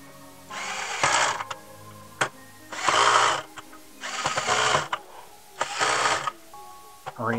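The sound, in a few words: screws being tightened into Game Boy Player adapter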